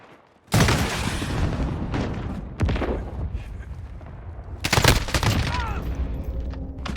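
Rapid bursts of gunfire in a first-person shooter Search and Destroy match, loud sharp volleys and sustained fusillades one after another, close and dense with occasional lulls between bursts.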